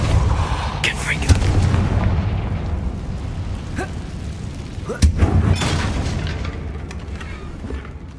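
Confringo fire spell cast in the Hogwarts Legacy video game near a damaged bridge, heard as booming blasts with a sharp explosive burst midway, set against a dense, steady game soundscape.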